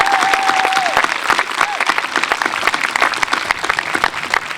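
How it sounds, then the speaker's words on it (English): Dense, steady clapping from a school assembly audience fills the whole stretch, loud and continuous, with a brief thin whistling tone near the start and no speech. "can we just give Emily, Rosie and Lily a round of applause?"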